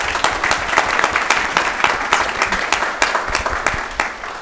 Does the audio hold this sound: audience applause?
yes